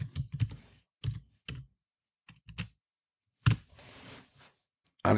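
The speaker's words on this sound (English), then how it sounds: "I just type setup." Keys clack on a computer keyboard while typing a setup command during a Slackware Linux install, several quick bursts of clicks separated by pauses, close and fairly quiet with no talk.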